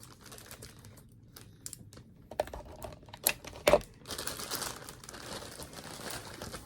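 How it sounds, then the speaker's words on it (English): Mystery bundle package being cut open: scattered close crinkles, snips and plastic rustles building into a few sharper tearing bursts, then denser rustling of packaging. "Let me cut it open."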